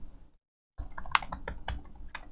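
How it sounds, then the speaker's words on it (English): Rapid keystrokes on a computer keyboard entering a new password on a Linux server, a steady run of close, crisp clicks after a brief silent gap, with no talking. "I'm just typing in the new password"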